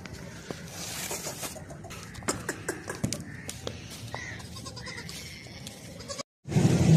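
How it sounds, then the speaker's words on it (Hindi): Goats and kids at a goat sale in Pakistan bleat at intervals over a busy outdoor background, with some clucking chickens mixed in, close and fairly loud, and the sound briefly cuts out near the end. "बहुत ही ज़बरदस्त बच्चे वाली बकरी है।"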